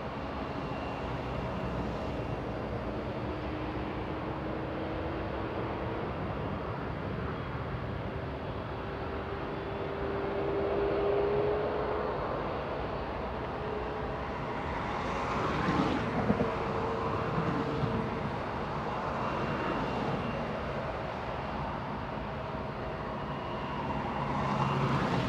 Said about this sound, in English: Big 777 in the distance